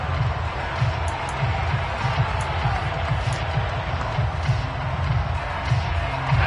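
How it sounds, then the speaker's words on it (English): Football stadium crowd roaring steadily during a game, a dense far-off wall of cheering with a rumbling low thump throughout, and a commentator's voice faintly over it. "That just means this crowd's going to get even louder"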